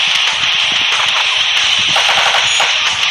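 Gunfire from a Halo Knight M37 gun in the video game Crisis Action comes as a loud, dense, rapid burst of crackling shots that runs through the whole short stretch without pause.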